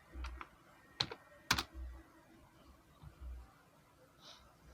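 Light typing on a computer keyboard, with a few isolated sharp key clicks spread out over a quiet room background.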